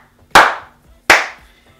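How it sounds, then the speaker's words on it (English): Two sharp, loud hand claps about three-quarters of a second apart, each ringing briefly in a quiet room. "thanks to those little claps, you can actually align on your editor the video and the audio"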